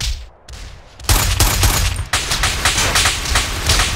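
Gunfire in GTA San Andreas cracks out in rapid bursts after a brief quiet start, loud and close, with dense repeated shots rattling like a machine gun through the rest.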